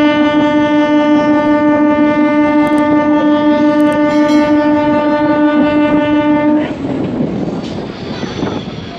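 A local train on the Howrah–Digha line sounds a loud, sustained horn for several seconds, then gives way to rumbling wheels and carriage noise.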